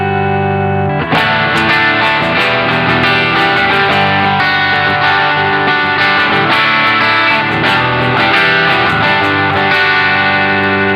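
An electric guitar with humbucker pickups through an Earthquaker Devices Special Cranker overdrive pedal at higher gain strums distorted, saturated chords continuously at high volume, instrument alone without voices.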